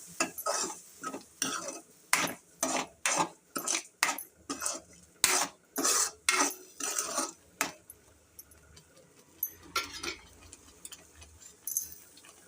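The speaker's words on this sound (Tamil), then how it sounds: "தேங்காய், வெள்ளைப்பூடி, சீரகம், அதையும் அதோடு போட்டு நல்லா பரட்டி விட்டுருங்க." A spoon stirs and scrapes ground coconut, garlic and cumin paste in a pan for cowpea curry, a quick run of about a dozen rhythmic, close scraping strokes that then trail off into a few softer scrapes.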